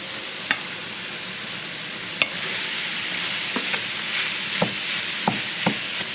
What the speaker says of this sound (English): All right, now we're gonna fry our meat.